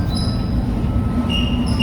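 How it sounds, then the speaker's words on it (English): Steady rumble of an airport terminal shuttle train at Toronto Pearson, with high, thin wheel squeals drawn out over the low noise, no voices. "the train that connects you from one terminal to the next"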